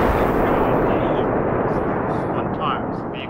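A vehicle-borne IED explodes in the military video game ARMA 3 with a loud, heavy, sustained rumbling blast that rolls on and slowly decays, with a voice speaking over it.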